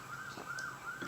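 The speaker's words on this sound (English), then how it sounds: "Sorry guys if you hear those sirens in the background." A faint, steady siren wails in the distance, holding a thin rising and falling tone, then a short bump of noise ends it.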